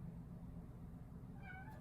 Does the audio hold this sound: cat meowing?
yes